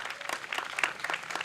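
An audience at a library branch opening claps in a brief, dense burst of applause with no talking over it.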